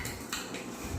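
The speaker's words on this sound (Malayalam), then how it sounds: "സ്പൂണും കൊണ്ട് തന്നെ ഇളക്കി യോജിപ്പിച്ച് കൊടുത്ത്" A metal spoon stirs buffalo meat pickle in a pot, giving a short burst of close scraping and clinking against the pot's side, with no talking.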